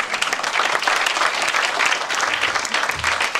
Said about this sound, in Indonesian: Kita berikan tepuk tangan panjang itu.